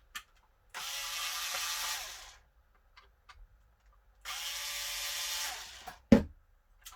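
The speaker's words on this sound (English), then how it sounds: "there are 2 Phillips screws here that are in black. Unscrew those and this comes away." Phillips screws being unscrewed from a Hikvision ColorVU mini PTZ security camera: two long bursts of close, dense ratcheting and scraping, separated by quiet pauses with small clicks, then a sharp knock at the end.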